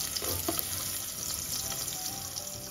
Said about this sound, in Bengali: এবার পেঁয়াজটা সামান্য একটু ভেজে নিব।